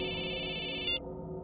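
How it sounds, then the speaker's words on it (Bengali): A mobile phone ringtone in a Bengali TV crime drama plays a bright, steady electronic ring for about a second, then cuts off, leaving low background music. "বস, আপনার ফোন।"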